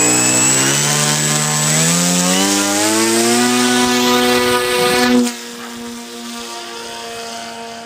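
Peace Drone quadcopter motors whining loudly on takeoff, multiple rising tonal pitches climbing together before a sudden drop to a lower, steady hum of hovering flight.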